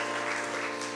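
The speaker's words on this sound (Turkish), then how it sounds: "Alkış, bravo maşallah." Dense, continuous clapping from a crowd, steady and fairly loud throughout with no pauses.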